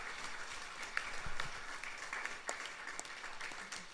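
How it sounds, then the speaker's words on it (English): A crowd at a Hindu temple Sunday service applauds with steady, dense clapping, somewhat distant and moderately quiet, sustained throughout. "Please give him a round of applause."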